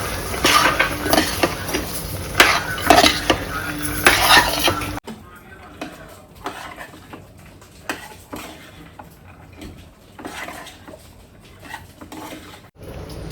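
Peas and field beans are tossed into hot oil in a pan and mixed, with loud clattering utensil-against-pan scrapes for the first few seconds, then softer intermittent clinks and faint background activity.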